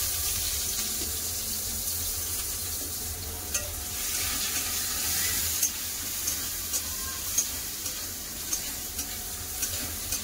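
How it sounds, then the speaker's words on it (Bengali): Onions frying in oil with black cumin in a pan: a steady, loud, broadband sizzle that runs throughout, with light scraping or stirring clicks scattered across it. "লাল করে পেঁয়াজ ভেজে নিয়েছি"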